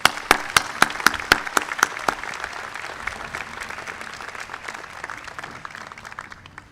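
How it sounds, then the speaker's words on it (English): Audience applause at a university convocation, opening with a few loud, sharp nearby claps over a broad crowd clapping that then settles into a steadier, softer patter as it continues. "Let's give them a round of applause."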